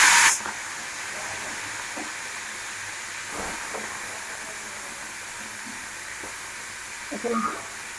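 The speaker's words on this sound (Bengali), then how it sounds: "চিংড়ি মাছটা আমরা ভালো করে ভেজে নিই" Prawns fry in hot oil with a steady, bright sizzling hiss, opening with a loud burst as they hit the pan, then settling into even crackle with a few faint clinks.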